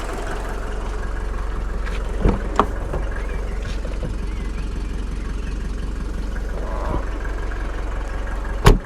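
A hot Mercedes W201 190D diesel engine idles steadily after a cooling system flush, a low continuous rumble with a few brief clicks and knocks.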